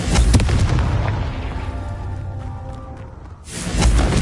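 A Confringo fire-blast spell from a wizarding video game, a deep booming burst that decays into a rumbling tail before a second heavy blast erupts near the end.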